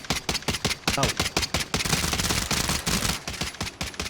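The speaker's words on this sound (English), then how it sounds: "Aim at 10x and just shoot a wall, far away, anything, what you want, really far away, and just watch the recoil" Rapid rifle gunfire in the Warzone video game, fired at a distant wall while zoomed in, a loud steady stream of shots with a short sustained burst in the middle and brief pauses between volleys.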